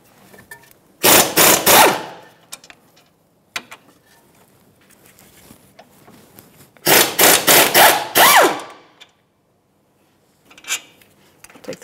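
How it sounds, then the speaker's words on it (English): A ratchet wrench with a 17mm socket loosens the caliper bracket bolts on a 2013-2018 Toyota RAV4, two bursts of rapid close clicking a few seconds apart, with small clanks between and no talking. "17mm socket, and we're going to back those off"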